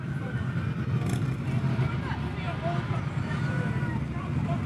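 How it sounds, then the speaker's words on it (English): Harley motorcycles in a holiday parade give off a low, steady engine rumble at moderate distance beneath continuous crowd chatter and a speaking voice. "they're tailed by a lot of their motorcycles there. As a Harley rider myself, I love the sound of that"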